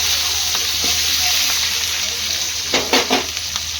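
Chili and onion frying in a pan, a loud dense sizzle held close, with a couple of stirring scrapes near the end and no voices.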